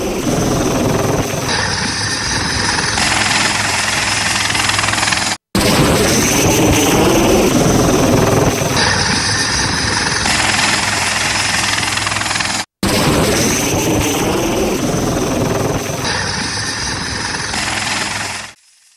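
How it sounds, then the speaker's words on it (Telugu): Navy helicopters flying flood relief operations over coastal Andhra, a loud, close, continuous rotor and engine drone with a throbbing vibration, heard in three segments separated by abrupt brief cuts. "మరికొన్ని నేవీ హెలికాప్టర్లు రంగంలోకి దిగాయి"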